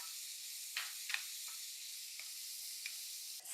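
Chopped onions and tomatoes sizzle in a hot pan with a steady hiss, while a few short scraping stirs cut through.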